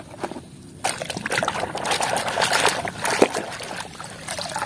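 Clean water for washing toys sloshing and trickling in a container, steady close splashing and pouring that continues throughout with no talk.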